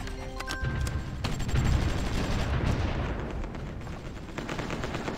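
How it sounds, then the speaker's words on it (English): Anti-air gun fire in the strategy game Supreme Ruler Ultimate, a rumbling burst of booming shots and rolling explosions building and fading over a few seconds, with no talking. "That's just regular anti-air gun."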